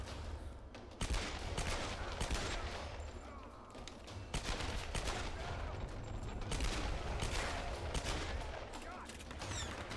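Dense rapid gunfire in Tomb Raider: Definitive Edition, a continuous loud barrage of shots with game combat noise throughout, steady and intense for the whole stretch.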